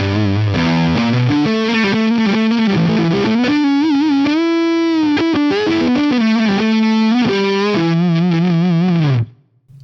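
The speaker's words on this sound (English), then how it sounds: "Let's hear that with the original DS1 model, same settings." Electric guitar played through the original DS1 distortion model on an Axe-Fx III, a loud, sustained distorted melodic line with bends and held notes, close and alone, ending abruptly.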